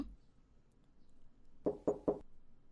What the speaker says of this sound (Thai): จู่เฟิงมาเคาะประตูห้องหลินบูอี้แต่เช้า